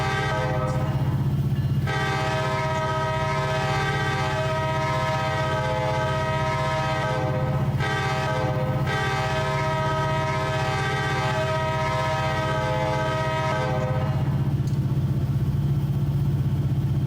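A passing Norfolk Southern locomotive in Run 8 Train Sim with a long multi-tone horn blast sounding in several sustained sections over a steady, loud diesel rumble.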